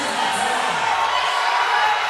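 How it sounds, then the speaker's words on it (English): A large indoor crowd at a strongman competition roars in a steady, dense wash of cheering and shouting as athletes go head to head, the noise sustained and even throughout with no pauses. "The noise in here is incredible, and we're only half full."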